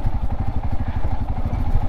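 A Royal Enfield Scram 411 motorcycle rides off-road on a badly broken mountain track in the Darjeeling area. Its engine thumps in a steady rapid pulse, close and fairly loud, with rattling and clatter from the rough ground.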